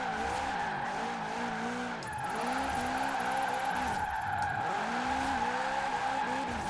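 A 1270-horsepower racing van with a drift build slides around a track in a racing video game, its tires skidding continuously over a loud, droning engine for the whole stretch.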